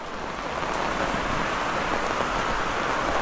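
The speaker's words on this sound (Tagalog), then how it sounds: "lumakas na yung ulan mga kanoypi" Heavy rain pours down steadily, a dense, even hiss of drops close by with no break, loud and unbroken for the whole stretch.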